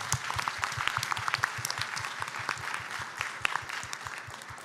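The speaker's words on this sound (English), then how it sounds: "Let's clap for Tanya." A small audience at a PAX East 2019 panel claps for a few seconds, steady scattered hand claps at moderate distance, fading slightly toward the end.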